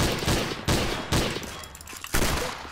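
Gunfire from the video game Trouble in Terrorist Town, four loud, close, booming shots spaced at roughly half-second to one-second intervals, each with a short decaying tail, with no voices.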